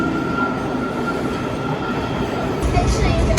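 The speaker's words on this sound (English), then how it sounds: "got onto the metro at the U Street" A Washington DC metro subway train, a loud, steady rumble of wheels on rails with a continuous tonal whine and a brief squeal near the end, heard from on board.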